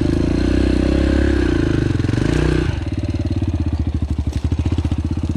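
A Yamaha TTR 125L dirt bike engine sputters and revs close by, shifting midway into a rapid, pulsing chug with clattering as it rides off-road over rough ground.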